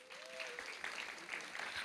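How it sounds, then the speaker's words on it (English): A brief round of applause at a women's media career summit panel welcoming Alia, a quiet audience clapping steadily from some distance with a few faint vocal sounds mixed in. "Round of applause."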